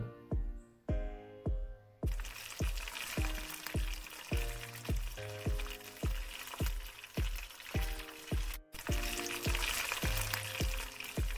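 Khandeshi urad papad vade fry in hot oil with a continuous bright sizzle, and a rhythmic music track plays steadily underneath.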